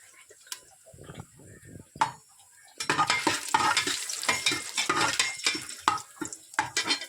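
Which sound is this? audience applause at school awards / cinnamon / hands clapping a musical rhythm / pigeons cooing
cinnamon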